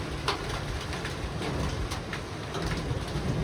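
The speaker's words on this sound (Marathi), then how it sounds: "पाऊस पडतोय." Sudden evening monsoon rain falling steadily outdoors, a continuous broadband hiss at moderate level, with a few brief bird calls and sharp taps over it.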